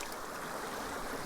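A small mountain creek flows in a steady, broadband rush of water, constant and fairly close throughout, with no voices.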